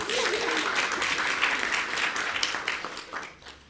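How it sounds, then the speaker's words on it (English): A room full of people applauds at a New York City mayoral budget presentation, steady dense clapping that holds strong before thinning and fading toward the end, with a few voices faintly mixed in. "Give him a round of applause, too."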